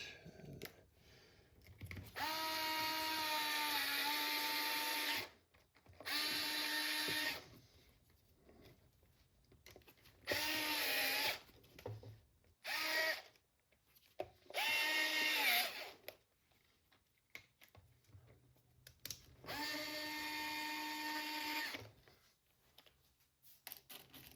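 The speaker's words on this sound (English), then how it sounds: "I'm gonna make sure to tighten up some of these things, because it seems to be that there are still a couple of screws out." A power drill drives screws on a Traxxas Maxx Slash RC truck during a sway bar install, whirring in several sustained bursts of a few seconds each with short pauses between, close and fairly loud.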